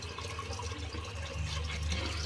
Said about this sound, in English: Okay, let's empty that. We'll do a cold water rinse.